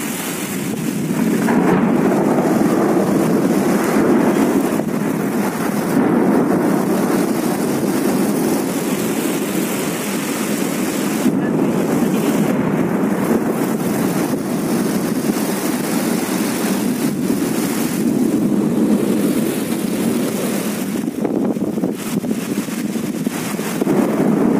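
A thunderstorm with heavy rain and gusting wind roars steadily and loudly throughout, with deep rumbling swells and dense broadband noise and no voices.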